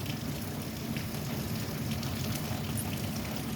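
Steady rain falls outside in an urban garden setting, a dense, even hiss of drops with no break, heard alone with no voices.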